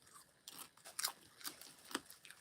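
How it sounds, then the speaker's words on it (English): A freshly made batch of crunchy buttered, salted snack chewed close up, with a few sharp crunches spaced out over a couple of seconds, fairly quiet overall and with no talking. "Hope the crunching isn't super loud."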